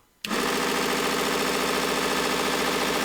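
A small Temu mini belt sander grinder switches on and runs at its lowest speed, a steady close whir with a faint rhythmic flutter holding constant after the abrupt start.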